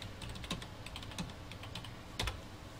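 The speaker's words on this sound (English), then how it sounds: "So let's type in that." Typing on a computer keyboard, a quick run of light close key clicks in irregular bursts, quiet and without speech.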